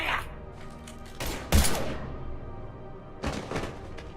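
Gunfire in the Mass Effect 3 video game, a few heavy booming shots with ringing tails, one loud blast followed later by another burst, separated by quieter pauses.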